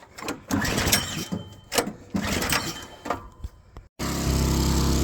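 A pressure washer's small engine catches after being choked and settles into a loud, steady running drone that cuts in abruptly near the end, following a stretch of handling noise and brief clatter.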